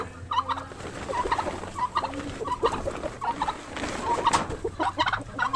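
Rhode Island Mahogany and White chickens calling in a poultry yard, with repeated clucks and crowing-like calls that overlap through the clip, loud and close with constant background flock noise.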